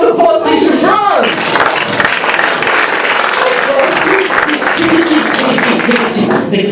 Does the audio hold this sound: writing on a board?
no